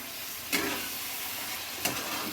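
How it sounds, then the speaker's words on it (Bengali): Spice paste with pointed gourd and potato sizzles steadily in a hot pan for a Bengali prawn curry, with two soft scraping stirs of a spatula over the constant hiss and no voices. "আবার ভালো করে কষিয়ে নিচ্ছি।"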